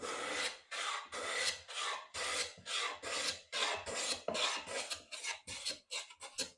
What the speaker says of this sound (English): eventually you're almost pulling full width shavings, but they're thinner.